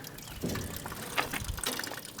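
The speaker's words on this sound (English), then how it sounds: "And that is just water running out of there." Water trickles and splashes out of a Buick's radiator in an uneven stream, faint and close, with small gurgling bursts as it drains.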